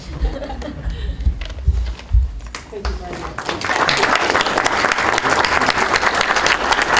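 An audience at an accessibility conference panel breaks into applause; a few scattered laughs and voices come first, then loud, steady clapping swells and fills the room for the last few seconds.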